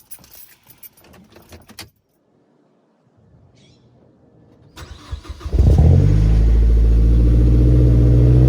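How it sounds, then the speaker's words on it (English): A first-generation Mazdaspeed3 is started: keys jangle near the ignition, a quiet pause follows, then the engine cranks and catches into a loud, deep idle that fills the remaining seconds. "we'll go ahead and start up the car"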